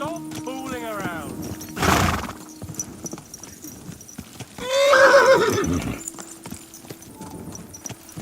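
A horse in the medieval game Kingdom Come Deliverance II gives a short snort and then a loud rising whinny, with hoof clip-clop and soft ambient tones around it.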